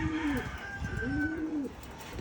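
Racing pigeons coo in a loft in the afternoon, two or three soft rolling coos close by over faint background noise.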